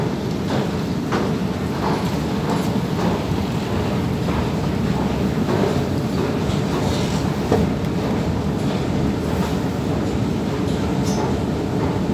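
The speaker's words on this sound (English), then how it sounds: "There's another train on the other side there." A train rumbles through a large Stockholm station, a continuous low roar with rhythmic clatter from the wheels, loud and steady throughout with no voices.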